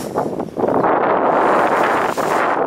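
Strong wind buffeting the microphone on a breezy coastal walk near Weston as the tide comes in, a loud continuous rushing roar with gusty swells.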